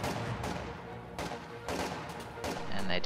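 Gunfire and explosive blasts from a World War II tactical strategy game battle, with a Penal Battalion and Volksgrenadiers fighting: several loud broadband bursts over a steady rumbling battle bed, partly under a commentator's voice.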